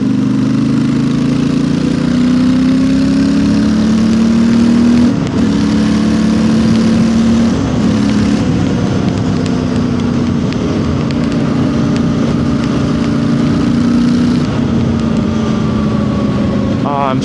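Royal Enfield Interceptor 650 with a new aftermarket exhaust, ridden on the road: a steady, loud mid-pitched engine drone that holds constant throughout, with slight pitch shifts and rumble from riding, and no talk.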